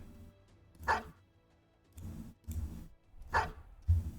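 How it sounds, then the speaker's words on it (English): A dog barks in the video game Battle Brothers: a few separate barks spaced about a second apart, fairly loud and clear, with no speech over them. "Maybe you can have that dog."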